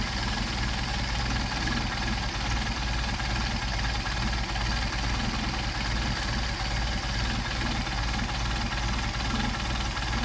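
A Mercedes 190SL engine with Solex carburetors idles steadily, its low, even running and faint mechanical knock holding constant and close by, with no talk over it.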